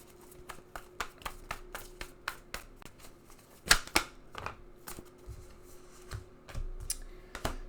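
Tarot cards riffle and flick in quick close taps, a steady patter of shuffling followed by a few sharper snaps as cards are drawn, soft and alone in a quiet room.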